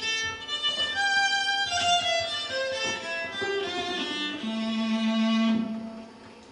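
Electric violin runs through a reverb effect pedal, playing a slow descending melodic line whose notes ring out and blend into a spacious wash, moderately loud with no other sounds.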